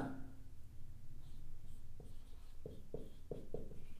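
Pen strokes scratch across paper while a maths problem is worked out, a soft steady rustle at first, then four crisp, evenly spaced writing taps near the end, close and fairly quiet with no talk.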